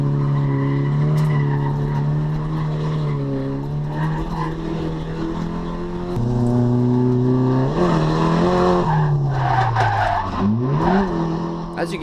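A race car slides and skids across a wet, slippery track coated in VHT traction compound, its engine droning loud and steady, then rising and falling in pitch as the tires scrub and squeal near the end.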